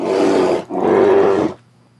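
A bear in a modded Minecraft world roars twice in loud, close bursts, with a short break between them before the sound drops to quiet.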